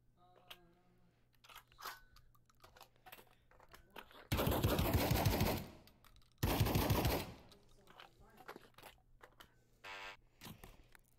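An automatic shotgun fires two loud, rapid bursts, one longer than the other, in the Pavlov video game's zombies mode, with faint clicks and clatter in between.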